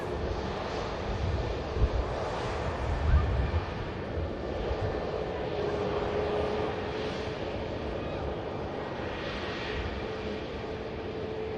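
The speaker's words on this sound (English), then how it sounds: "Another EasyJet A320 Neo taxiing in there." An EasyJet A320neo taxis at Manchester Airport, a steady distant jet engine whine and rumble with wind noise and a faint thump, continuous throughout.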